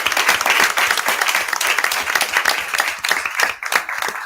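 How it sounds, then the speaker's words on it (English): An audience applauds at a Board of Aldermen meeting: dense, loud, sustained clapping from a room full of people that thins briefly near the end and then picks up again. "we need to give a round of applause to our students who showed up and showed out"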